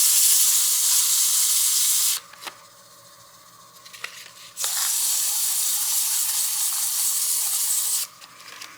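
Sandpaper of 180 grit pressed against a spinning wooden block on a lathe turning at about 600-700 RPM, a steady close hiss in two long passes separated by a quieter pause, with no talking.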